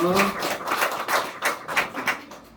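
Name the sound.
applause in church service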